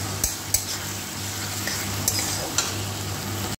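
Taro leaves (kochur saak) are stir-fried in a pan with a continuous oily sizzle, as a spatula scrapes and taps against the metal every second or so. Nobody speaks.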